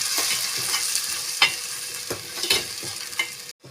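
Ground tomatoes are stirred into ginger garlic paste in a hot pan, with a spoon scraping and clacking in repeated strokes over a steady sizzle, ending in a sudden cut.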